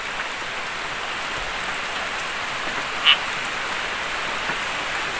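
Heavy rain pours down outside a hut as a dense, steady wash of hiss that stays loud and even throughout, with one brief faint chirp partway through.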